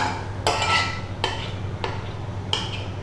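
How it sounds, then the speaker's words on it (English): Honey sauce mixture, with honey and mustard, being stirred in a bowl: a few distinct clinks and scrapes of a utensil against the bowl, spaced about a second apart, with a steady low hum underneath. "You basically want to mix it until you can feel that all the honey's kind of like dissolved, or at least mixed in."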